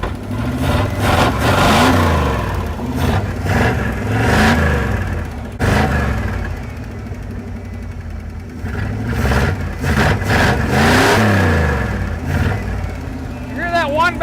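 A 1968 Plymouth Fury barn find with a carburetor: the engine revs up and settles in repeated swells, loud and close, with people talking over it.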